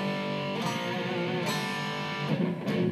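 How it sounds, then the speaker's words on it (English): A single lead guitar note is picked and left to sustain over a lingering ringing tone, with a couple of soft pick attacks, close and moderately quiet. "I want you to improvise one note"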